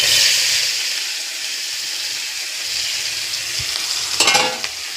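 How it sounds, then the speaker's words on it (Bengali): Shrimp frying lightly in hot oil in a pan for a Bengali pointed gourd and shrimp dish, a steady close sizzle and hiss with a brief burst of stirring or spattering near the end. "এই তেলের মধ্যে চিংড়ি মাছগুলো হালকা ভেজে নেব।"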